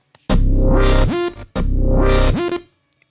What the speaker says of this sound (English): Just an auto filter.